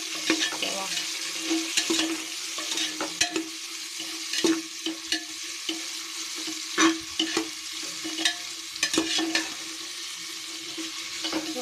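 Chopped onions sautéing and being stirred in a pan for egg biryani, a steady close sizzle broken by frequent scraping strokes of a spoon against the pan, with no talking.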